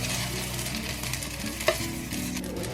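Pan-fried buns cook in a covered pan with water over medium-low heat, a close, steady sizzle and bubbling with one brief click partway through.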